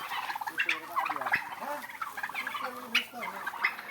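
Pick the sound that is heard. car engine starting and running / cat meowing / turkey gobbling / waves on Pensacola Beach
turkey gobbling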